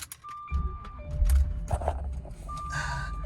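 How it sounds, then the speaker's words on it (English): A 2003 Jaguar XJR being started, with chimes and beeps, a thunk, and then the engine cranking and catching into a low, steady idle nearby. "Let me turn the car on."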